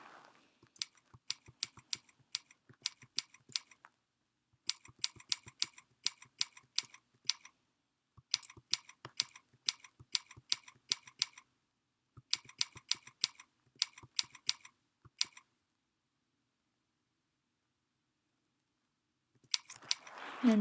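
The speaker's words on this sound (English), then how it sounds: "follow the instruction to practice typing S and L with the ring fingers of your left and the right hand" Typing on a computer keyboard, the S and L keys struck in a practice drill: bursts of quick, crisp clicks with short pauses between runs, then a long silence before a few keys start again near the end.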